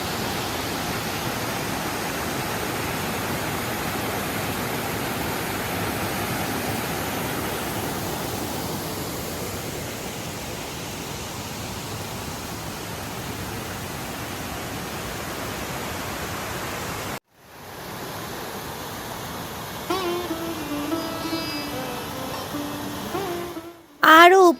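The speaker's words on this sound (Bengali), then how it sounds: "আর উপর থেকে একটা খুব সুন্দর ঝর্ণা নিচে নেমে আসছে।" A waterfall rushes down the Panchalingeswar hillside in Simlipal Forest, a steady broadband roar filling most of the scene, then cutting to a quieter stretch with faint voices and small knocks.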